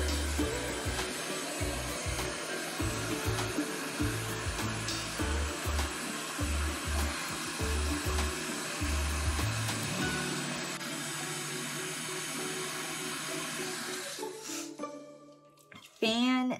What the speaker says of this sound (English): Wait till you turn your heat gun on. Give it a few seconds to heat up